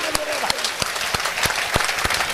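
An audience claps in applause at a Hindi religious discourse about Lord Mahavir, a steady wash of many hands with sharper individual claps standing out, sustained and fairly loud throughout.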